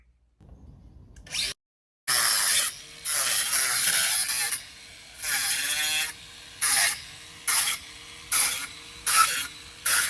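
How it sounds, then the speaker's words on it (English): Spray paint cans hissing onto private jets at an airport, coming as a series of loud, sharp bursts of varying length separated by short pauses, with no talking. "sneak into a private jet airport and spray paint two private jets"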